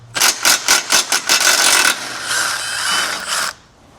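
A ratchet fitted with a 19mm socket loosens bumper mount nuts on a 2026 Mazda CX-50, close and loud, with quick clicking bursts giving way to a continuous whirring spin that stops abruptly.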